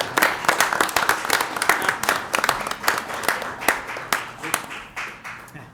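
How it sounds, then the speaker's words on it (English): An audience claps at a village board meeting, steady moderately loud applause from a room of people lasting several seconds without letting up. "So big round of applause."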